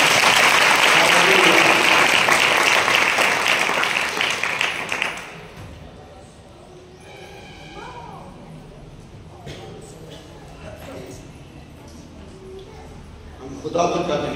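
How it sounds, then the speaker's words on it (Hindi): A church congregation applauding during a sermon at a fasting prayer service, a dense loud wash of clapping for about five seconds that stops abruptly, followed by quieter room sound and a voice. "खुदावन के लिए तालियां बजा दीजिए।"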